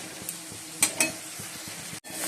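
Potatoes and spices stir-frying in a pan, with a steady low sizzle, scraping stirs and a couple of sharp spoon clinks against the pan, all close by.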